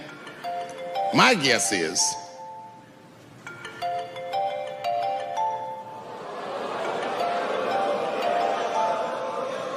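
A mobile phone ringtone goes off in a stand-up comedy audience, repeated melodic chiming tones ringing out in bursts across the clip over crowd noise and laughter, with a voice talking and calling out.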